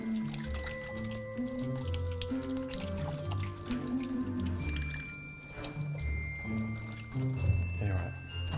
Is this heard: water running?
yes